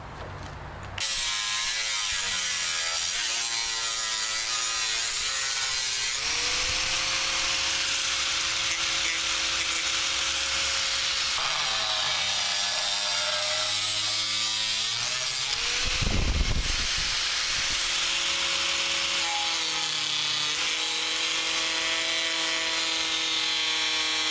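A throwing knife blank being cut out of metal stock with a steady, loud grinding whine from an angle grinder's cutting disc, running continuously with shifting pitch and a brief harsher burst midway.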